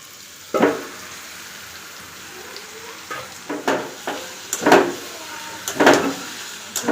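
Meat frying with spices in a pan in a home kitchen, a steady low sizzle broken by sharp crackling bursts as it is stirred, close and clear with no talking.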